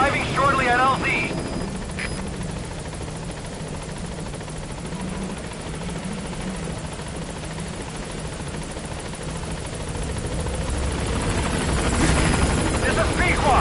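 A helicopter arriving at a landing zone in Metal Gear Solid V, its rotor drone steady and fairly loud throughout, with brief radio-style voice chatter near the start and end.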